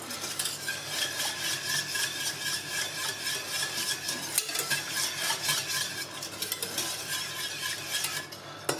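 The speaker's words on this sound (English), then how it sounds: "I want to whisk, I don't want to mess the whole stove up" A sauce being whisked in a pan on the stove, a continuous rapid rhythmic scraping and clatter of the whisk against metal, close and steady with no talking.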